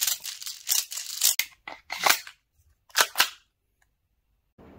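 Airsoft gun loaded with red tracer rounds firing a rapid volley of sharp snapping shots in two bursts, close and loud, with a short pause between and a faint clatter at the end.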